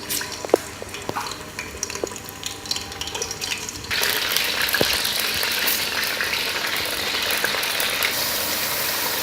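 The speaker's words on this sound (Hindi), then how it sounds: "अब हम इसमें बीफ डालेंगे और इसको हम इतना पकाएंगे कि इसका जो है वो कलर ये चेंज हो जाए" Beef being stirred into hot ghee in a pan for street-style beef nihari; light scraping and clatter at first, then a loud, continuous sizzle of frying once the meat hits the fat.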